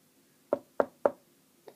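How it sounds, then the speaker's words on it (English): Three firm knocks on a door in quick succession, then a fainter fourth rap after a pause, close and clear in a quiet room with no talk. "who's that at the door? Come in."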